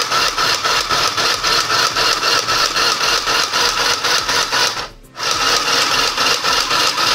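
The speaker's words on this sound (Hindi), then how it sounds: "अब मैं इसको फुट पेडल को थोड़ा प्रेस करूँगा, मैं स्लो कर देता हूँ" CHILLAXPLUS SM201 D portable electric sewing machine driven by its foot pedal, a loud, close, steady whirring motor with a regular pulsing stitch rhythm that cuts out briefly near the end and resumes.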